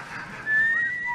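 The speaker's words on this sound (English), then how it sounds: "I don't know. It's whistling." Clear whistled melody with sustained tones, starting partway through and carrying on steadily, fairly close and moderately loud.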